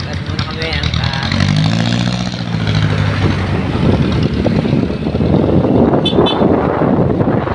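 A motorcycle ride with engine drone and heavy wind buffeting against the microphone, steady and loud throughout, with voices talking over the rumble.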